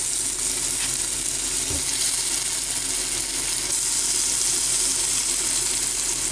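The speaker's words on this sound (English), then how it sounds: "when I press a bit of meat in there, you can see that it's bubbling away" Steady, dense sizzling of beef frying in hot oil, a continuous crackling hiss close by with no talking.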